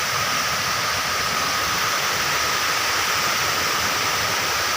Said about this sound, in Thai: น้ำตกลงมาจากภูเขาแล้วครับ